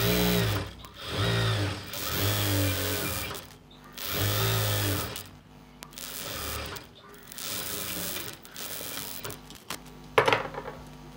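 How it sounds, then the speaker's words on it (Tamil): A sewing machine stitches a chudi pant in a tailoring setting, running in loud bursts of a second or two with short pauses between them, and one sharp clack near the end. "பேண்ட்டு ஃபுல்லாக தைச்சி முடிச்சிட்டோம்."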